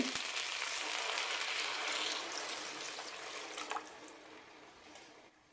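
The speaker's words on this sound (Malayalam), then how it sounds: "ഇനി ഇതിലേക്ക് വെള്ളം ഒഴിക്കാം" Water pours steadily into rice for a mint biryani, a broad rushing splash that holds for several seconds and then gradually tapers off, close by with no voices.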